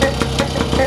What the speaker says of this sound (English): a 1946 Husqvarna Model 24. And if you look at this, 118cc two-stroke engine.